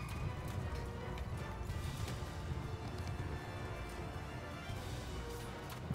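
Horse hooves galloping across a battlefield in the game Mount and Blade II Bannerlord, a fast continuous drumming of clip-clops at moderate loudness over a busy rumble of battle noise.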